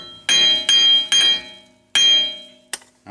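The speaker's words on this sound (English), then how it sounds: "is I'm going to take a hammer" A hammer striking a wheel stud on the rear wheel bearing hub of a 2010 Dodge Journey 2WD, four loud ringing metallic blows with lingering clang and one lighter tap at the end.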